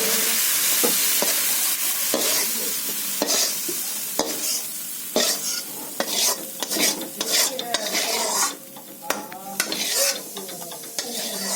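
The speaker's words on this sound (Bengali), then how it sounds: "মাছগুলো ভাজা হয়ে গেছে, নেড়ে তুলে দিচ্ছি" Fried prawns are stirred in a hot wok, with a spatula scraping and clanking repeatedly against the metal over a continuous close sizzle.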